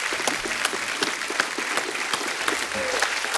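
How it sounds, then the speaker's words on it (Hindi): A studio audience at The Kapil Sharma Show applauds loudly and continuously, a dense wash of clapping with a few sharper individual claps standing out. "एक बार जोरदार तालियां हो जाएं।"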